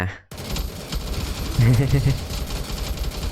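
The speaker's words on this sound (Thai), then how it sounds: "ผมใช้ปืน เกมไอ้ปืนไอเนี่ย" Rapid gunfire from weapons in the Roblox game The Resistance Tycoon, a dense run of shots crackling throughout with a voice talking over it.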